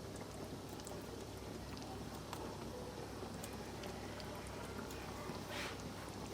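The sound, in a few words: meat bolognese sauce with water and tomato puree cooking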